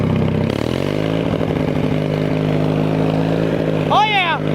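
A modified riding lawn mower engine runs steadily with a droning, slightly rising hum, close by and loud. A brief high squeal comes near the end.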